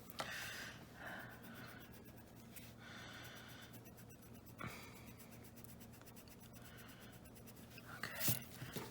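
Faber-Castell Perfection eraser rubbing over layered colored pencil marks on paper, a soft steady scrubbing in repeated close passes, with a few brief sharper strokes near the end.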